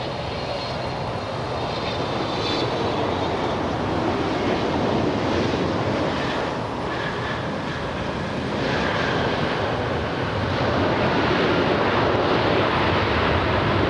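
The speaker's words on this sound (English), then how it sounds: "We have American Airlines flying in from Miami." An American Airlines jet arriving from Miami at LAX roars steadily and loudly overhead, a dense continuous engine rumble with faint whining tones, swelling gently toward the end, with no talking.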